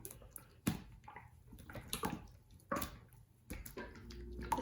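Cheap five-dollar slime being squeezed and worked by hand gives off wet, squelching squishes in a few loud bursts separated by softer sticky sounds, close to the mic.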